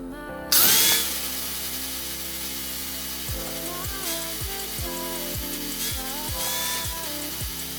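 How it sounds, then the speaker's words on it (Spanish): An angle grinder with a flap disc polishing a welded stainless steel jug, starting up sharply and then whining steadily up close, its pitch dipping in repeated bites as the disc presses against the metal. "Le vamos a dar la primera pulida con un disco flap"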